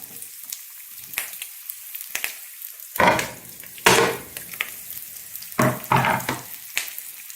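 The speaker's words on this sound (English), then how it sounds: "The pan is just about to start smoking. This is great so the vegetables don't become saturated in oil." Vegetables fry in a very hot pan of oil for an adzuki bean and lentil casserole, crackling and sizzling loudly in bursts as they are stirred and tossed, close up with no talk.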